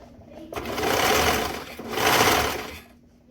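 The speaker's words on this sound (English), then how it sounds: "And then sew across the bottom here." A sewing machine stitches a knit fabric lining pocket to a side panel, running in two close, steady bursts with a short pause between them.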